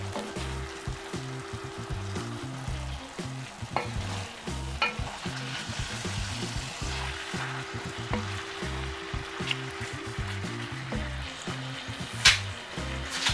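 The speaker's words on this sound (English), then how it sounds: "Just give this pork this stir." Pork stirred in a pot with pepper while cooking Nigerian vegetable ugba, a steady sizzle under repeated scraping stir strokes and occasional utensil knocks, close and continuous.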